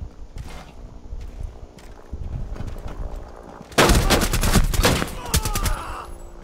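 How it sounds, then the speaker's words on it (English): Rainbow Six Siege video game gunfire: scattered quieter shots early on, then a loud, close flurry of rapid bursts in the second half, with game ambience between. "Okay, they're shooting at us."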